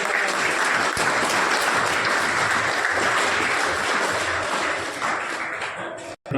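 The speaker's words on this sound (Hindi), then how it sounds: "जोरदार तालियां" Loud audience applause at a school sweater distribution event, with dense, continuous clapping from a large crowd that holds steady for several seconds and then fades with a brief drop near the end.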